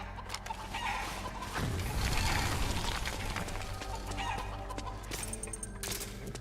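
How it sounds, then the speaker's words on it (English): Chickens in the video game Metal Gear Solid 4 cluck repeatedly and fairly loudly over a busy background of game sounds and mechanical noise, with no talk. "These are POW chickens."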